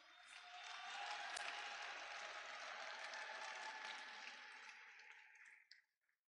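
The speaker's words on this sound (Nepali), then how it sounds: "सबैजनाले आफ्नो निमित्त जोरदार ताली बजाइदिनुहोस्" Crowd applauding at a Nepali wrestling event: a broad, continuous wash of clapping that swells quickly, holds for several seconds, then thins out and fades to near silence.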